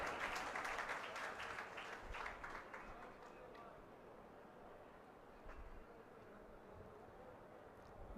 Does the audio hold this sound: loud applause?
yes